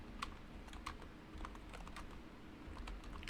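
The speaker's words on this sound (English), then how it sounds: "we are going to type it in." Typing on a computer keyboard: scattered, uneven clicks and key taps over a steady low background hum, fairly close, with no talk.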